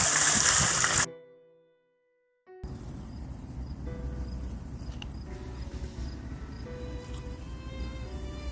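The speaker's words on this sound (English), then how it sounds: "There's a billion crickets out there." Dense crickets chirp steadily through a night outdoors near a tent on a Lake Erie bike tour, a continuous close, even chorus after a brief silent gap, with no talking.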